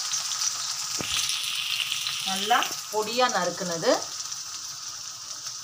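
Steady sizzling of large onions frying in oil for roadside-style mushroom masala, a constant crackling hiss that runs throughout, with a person talking over it partway through.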